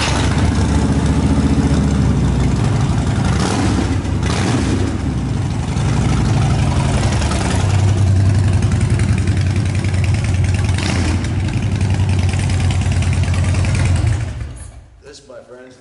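A 2013 Harley-Davidson FXDB motorcycle engine runs indoors on a dyno, a steady loud rumble with swelling revs that cuts off near the end.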